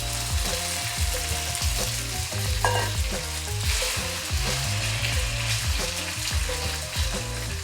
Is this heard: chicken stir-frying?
yes